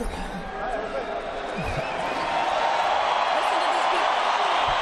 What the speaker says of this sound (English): You hear these people? They're cheering for you too